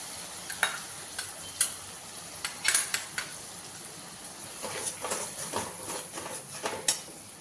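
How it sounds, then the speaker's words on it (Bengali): Mustard and poppy seed paste stirred and frying in a pan: a soft sizzle with scattered scraping clicks of a spoon against the pan, fairly quiet, no voices. "এরপর এর মধ্যে এই বাটা মশলাটা দিয়ে দেব।"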